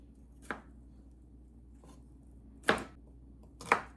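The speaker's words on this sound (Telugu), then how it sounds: "ఇప్పుడు నేను ఈ గార్లిక్ ఉన్నాయి కదా, ఇవి కొంచెం సన్నగా కట్ చేసుకుంటాను" A knife cuts garlic thinly on a board in three sharp, separate chops over a quiet background, close and distinct, with pauses between them.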